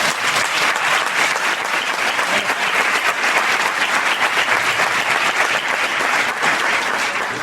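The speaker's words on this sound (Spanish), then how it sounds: "vamos a dar un fuerte aplauso a los invitados" A live comedy audience gives a loud, sustained burst of applause for invited guests, thick and continuous from start to finish, with no speech on top.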